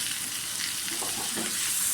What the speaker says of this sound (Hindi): अब इस टाइम आप ये इसमें टमाटर डाल दें।